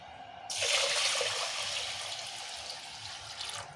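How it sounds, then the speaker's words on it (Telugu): Rice being rinsed in a bowl of water: a soft, close sloshing and swishing of grains and water begins abruptly and continues steadily, fairly quiet, with no talking. "ఇంకా రెండు మూడు సార్లు మంచిగా రాసి కడుక్కోవాల్సిన బియ్యము"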